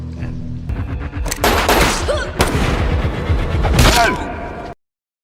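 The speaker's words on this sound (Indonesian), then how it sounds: "ia justru berbalik dan menembak Cynthia, mengakhiri pengkhianatan bosnya sendiri" Gunfire rings out in a tense action-film scene in which a character turns and shoots, with several loud, sharp bursts of shots over a dense, dramatic soundtrack before the sound cuts off abruptly.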